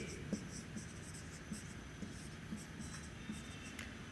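Chalk or marker writing on a board in a physics classroom, with soft scratchy strokes and light taps at a steady, unhurried pace under faint background hiss.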